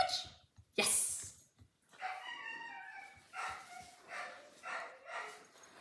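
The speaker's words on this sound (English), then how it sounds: "You can hear all the other dogs who are supposedly napping, but when they hear me practicing, they get so jealous and very upset" Several dogs that had been napping bark, yip and whimper in the background during a training session, faint, distant and irregular, with short excited bursts.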